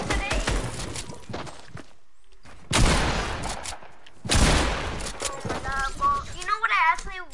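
Gunfire in a shooting video game, including sniper rifle shots, comes in sharp bursts of several loud, close cracks separated by quiet gaps, while a player talks over parts of it.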